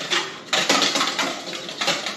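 A whisk clatters briskly against a bowl while honey sriracha wing sauce is mixed, giving quick, close metallic scraping strokes in several bursts with brief pauses between.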